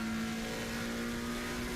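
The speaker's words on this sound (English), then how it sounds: "Oh, there's another car going there." A race car engine in the sim racing game Assetto Corsa Competizione, a loud, steady droning whine with a strong held pitch, sounding close throughout with no talk over it.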